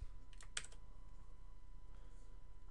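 A few quick, quiet keystrokes on a computer keyboard clustered near the start, then near silence over a faint steady hum with a couple of soft clicks later; no talking.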